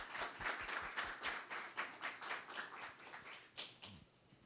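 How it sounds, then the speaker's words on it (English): Quiet audience applause at a community conversation event: a small crowd claps in a soft, uneven patter that thins out toward the end. "Please give a round of applause for Sarah"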